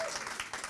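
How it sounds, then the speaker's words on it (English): A brief burst of audience applause at a live conversation event, quiet and dense, with clapping blurred into a short continuous wash. "Clap for her, guys."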